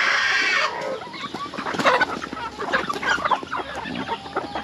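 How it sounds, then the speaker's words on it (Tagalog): Geese heading home on a countryside farm, giving a run of close, repeated honking calls that overlap one another after a brief noisy burst at the start. "Yan na, pauwi na yung gansa."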